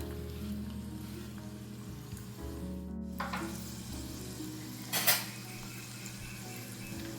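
Two finely chopped onions sauté in hot oil for a Agri-Koli style dried fish (sukat) dish, giving a steady close sizzle with occasional stirring scrapes and a brief louder clatter midway.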